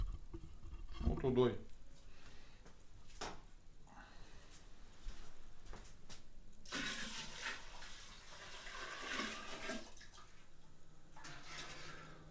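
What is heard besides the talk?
pouring dissolved grape juice concentrate into a barrel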